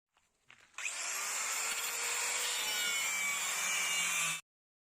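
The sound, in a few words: drill machine cutting jammed car wheel bolts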